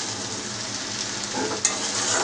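Spicy noodles being stirred and mixed in a pan with little oil: a continuous close sizzle with soft scraping, and one brief clink partway through.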